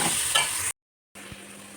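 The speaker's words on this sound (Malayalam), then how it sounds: "നന്നായിട്ട് വഴറ്റുക." Crushed ginger, green chilli and about a dozen garlic cloves sauté in a pan for Kozhikode biryani. The sizzle is loud and close, stirring scrapes through it, and then a sudden silent gap of nearly half a second falls before the frying resumes more softly.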